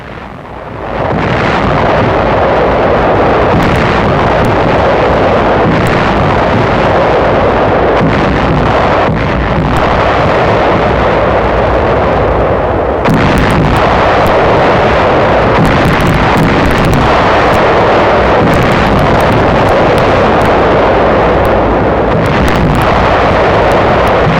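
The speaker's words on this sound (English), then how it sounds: "The attack is preceded by 9 days of intense shelling and bombing by the 5th Fleet." Naval shelling and rocket bombardment pound an Okinawa beach, a loud continuous rumble of explosions and artillery fire with repeated heavy surges, sounding distant and wind-buffeted.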